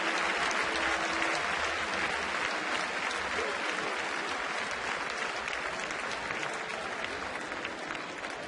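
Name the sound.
crowd ovation for a player at a baseball game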